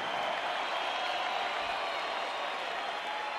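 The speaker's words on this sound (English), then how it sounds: "a round of applause for these two warriors in the ring here tonight." Arena crowd in Las Vegas applauds two boxers after a championship bout, a dense, steady wash of clapping and crowd noise that holds evenly throughout.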